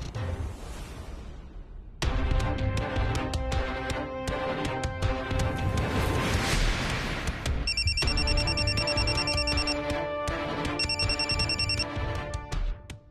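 A telephone rings in a Marathi TV drama scene, with two bursts of bright electronic ringing over steady background music and no one speaking.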